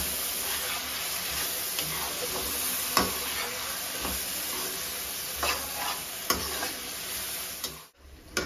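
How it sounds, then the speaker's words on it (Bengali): Jackfruit being stir-fried with chili and turmeric powder in a pan, a dense continuous sizzle broken by repeated scraping stirs and spatula knocks, close and loud, with no talking. "আমি লঙ্কার গুঁড়ো, হলুদের গুঁড়ো দিয়ে দেবো। আমি ভালো করে মিক্স করে নেব, আর কষাতে থাকবো।"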